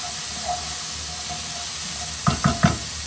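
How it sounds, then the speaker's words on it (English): Black beans tipped into a pan of sizzling roast pepper paste, a low steady fry hiss broken near the end by three quick soft thuds and clatters as they land. "Now I'm just going to, into that, add my black beans."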